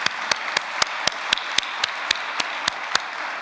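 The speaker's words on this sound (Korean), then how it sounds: "여러분 어떻습니까? 박수 한번 보내주십시오." Applause at a ceremony where a mother places a necklace on her daughter: evenly spaced, rhythmic claps at about four per second, fairly sparse and close.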